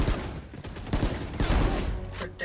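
Rapid gunfire in the video game Valorant, several quick bursts of shots close and loud, with short gaps between volleys.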